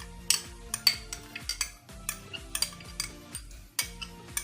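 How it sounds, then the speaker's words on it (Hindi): A spoon stirs thick strained yogurt and heavy cream in a bowl, tapping and scraping against the dish in an uneven series of close, clear clinks with quiet pauses between. "और ये पहले अच्छे से मिक्स कर लेंगे।"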